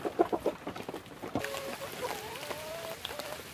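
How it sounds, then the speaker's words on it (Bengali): Hens and a rooster on a rural farm clucking and calling, a few close irregular clucks at first, then longer drawn-out tonal calls that carry over a steady outdoor background. "এই যে দেখুন 10টা 12টা আমার মুরগি আছে।"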